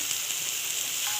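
Turmeric, chili powder and garam masala frying in a pan over a slow flame, giving a steady, soft, close sizzle with no pauses throughout.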